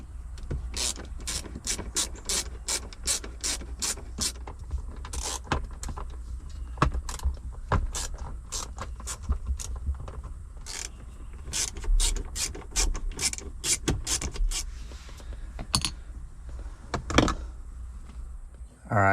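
Ratchet backing out screws from a Jeep JK dash cover on the steering column, repeated sharp clicking bursts in uneven runs throughout, close and clear.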